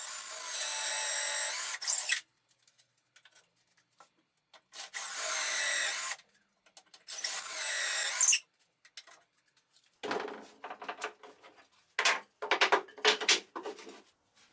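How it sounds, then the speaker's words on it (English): A drill bores dowel holes in wood through a doweling jig, giving three sharp, loud bursts of whining drilling separated by quiet pauses, followed by shorter, lower scraping and rubbing bursts. "I have to drill 16 dowel holes"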